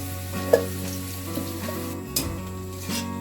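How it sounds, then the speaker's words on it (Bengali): Onions fry until reddish in a pan for an egg tikka dish, giving a soft continuous sizzle with a few faint stirring clicks over a low hum, nearby and unvoiced. "আমি পেঁয়াজটা লাল করে ভেজে নিচ্ছি"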